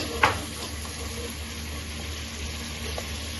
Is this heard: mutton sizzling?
yes